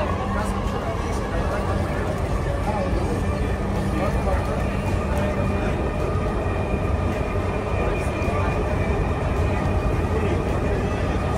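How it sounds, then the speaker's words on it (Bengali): A Dhaka metro rail train at Bijoy Sarani station gives a steady loud rumble and rolling hum from start to finish, with people talking nearby. "বিজয় সরণিতে নামলাম মেট্রো রেল থেকে"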